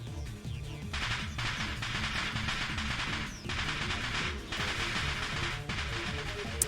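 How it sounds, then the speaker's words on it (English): Crackling bursts of a dust explosion set off behind a shut door in the visual novel Steins;Gate, popping like firecrackers in rapid irregular volleys over a steady low rumble, loud and close with short pauses between clusters. "A sound like firecrackers resounds from the other side of the door."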